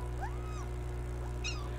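A cartoonish cat meows twice in a Christmas-themed adventure game, a short rising mew then a higher quick cry, over a low steady musical hum.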